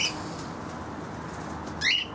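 Cockatiels in a large walk-in aviary give a brief scattered burst of calls and wing flapping against a steady background hiss, the calls rising sharply near the end.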